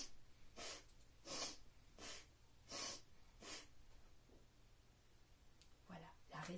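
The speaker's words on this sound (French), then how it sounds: "Respiration longue et puissante." Long, powerful breaths from a kundalini yoga exercise, about six strong rhythmic nasal exhalations spaced roughly a second apart, close and clear, followed by a pause and two more breaths.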